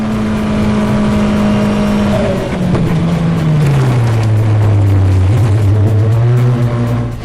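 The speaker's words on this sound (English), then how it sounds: "When racing driver Dino Zamparelli was driving at over 150 miles per hour" A race car driven by Dino Zamparelli at over 150 mph drones loudly and steadily, its engine pitch holding high, then dropping and settling lower as it shifts, filling the stretch with no talk.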